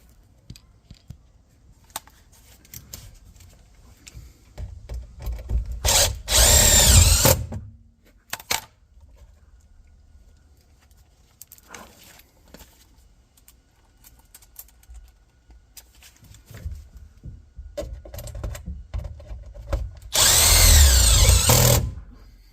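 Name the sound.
power drill screwing HVAC flange in place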